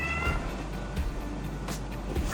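A cat named Cleo meowing, a few short cries over a low, steady background rumble.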